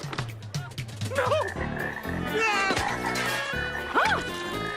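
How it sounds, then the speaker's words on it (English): Cartoon frogs croak in a loud, busy jumble of warbling, rubbery calls from a Little Lulu cartoon, with voices and other sound effects mixed in throughout. "We have some frogs here for you. Lots of frogs."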